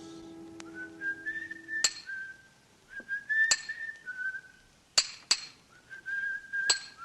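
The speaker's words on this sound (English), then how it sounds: "From the yard itself came a cheery whistle, the noise of hammer blows, and the cold sound of steel meeting stone." Cheery whistled melody drifting from a monumental mason's yard working English and Italian marbles, interrupted by sharp metallic clinks of hammer blows and steel striking stone, close and clear with no talk.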